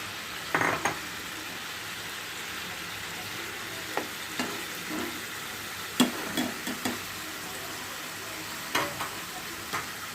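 Fish pieces sizzling in a tomato curry in a pan, a continuous close hiss of frying with occasional soft clinks and scrapes of a utensil stirring, no talking.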